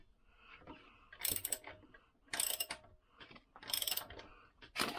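A wrench works on Lambretta engine bolts during an ethanol rebuild, four crisp ratcheting bursts clicking in a steady rhythm, close and quiet, with soft handling noises between them.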